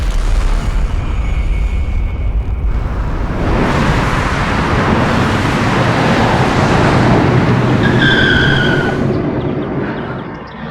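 A car driven hard and fast, engine roar and broadband noise filling the whole stretch with a skid-like squeal near the end, loud and close, no talk.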